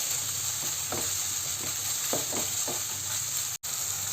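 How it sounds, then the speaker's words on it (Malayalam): Sliced shallots and onion sauté in a pan for a Kerala cheera dal thoran, a steady close sizzle broken by several soft stirring scrapes, then a brief dropout near the end. "ഈ സവാളയും ചെറിയ ഉള്ളിയൊക്കെ നന്നായിട്ടൊന്ന് വാട്ടിയെടുക്കാം."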